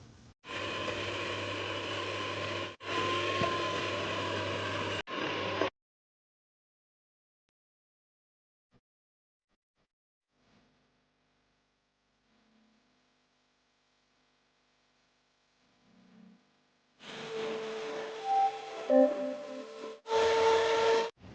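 Eggs being whisked into birthday cake batter, a loud, steady mechanical whir that runs for several seconds, stops for a long near-silence, then starts up again near the end.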